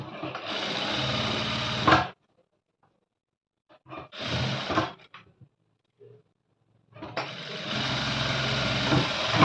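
A sewing machine stitching a cutwork sleeve runs in three bursts of rapid, close mechanical whirring, separated by near-silent pauses and a few faint handling sounds.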